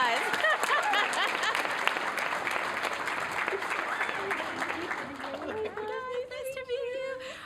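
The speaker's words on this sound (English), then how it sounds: "Big round of applause." Audience applause at a student Emmy awards ceremony as a presenter is welcomed to the stage, loud and steady at first and then thinning, with voices talking and chattering over the fading claps.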